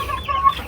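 Chickens cluck softly and steadily while feeding on molasses at a farm, a short stretch of close, low murmuring calls with no talking over it.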